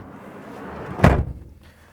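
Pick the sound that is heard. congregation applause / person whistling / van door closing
van door closing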